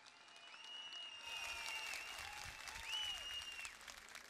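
Distant crowd applause at an outdoor political rally in İzmir, a faint steady rush of clapping with whistle-like tones sliding above it.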